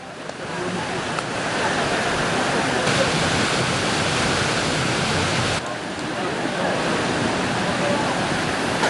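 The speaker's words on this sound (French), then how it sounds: "arrivent enfin aux cascades de Zondey" The Zondey cascades waterfall near Hamdania in Algeria roars steadily as a dense, unbroken rush of falling water, close and loud throughout.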